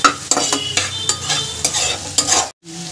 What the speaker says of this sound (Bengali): পেঁয়াজটাকেও আমি একটু ভাজা ভাজা করে নেব